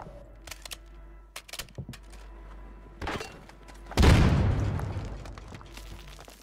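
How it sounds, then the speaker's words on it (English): A Semtex grenade blows up in the Warzone battle royale as a single loud, close boom at mid-clip, followed by a long decaying rumble. Scattered gunfire pops and clicks come before it. "Tossing Semtex"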